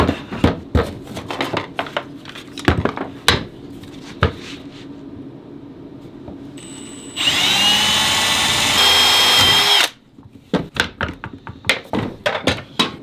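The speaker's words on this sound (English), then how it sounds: "now I'll drill holes in these ones." Scattered sharp taps and knocks, then a loud power drill whines for about three seconds drilling holes in wooden beads before stopping, followed by more clattering taps.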